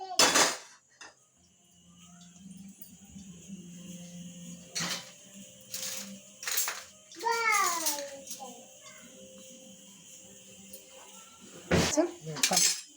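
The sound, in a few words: handling a kadhai (wok) and utensils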